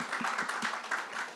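Audience applause at a trailer launch event for a Hindi web series, a short burst of scattered hand claps at moderate volume in a room.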